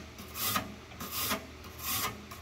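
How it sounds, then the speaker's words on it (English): A nylon brush scrubs the dusty condenser fins of a Coleman Mach RV air conditioner, giving three separate rasping strokes at a steady pace, close and fairly quiet, with nobody talking. "The next step is to take that nylon brush and come over here to the condenser"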